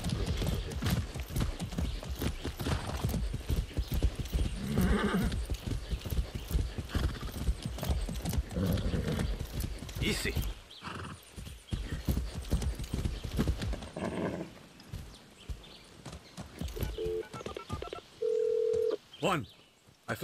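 Horse hooves clip-clopping at a gallop in the video game Far Cry 6, a fast steady beat that runs loud for about ten seconds, then slows and thins out amid game sounds and brief electronic tones.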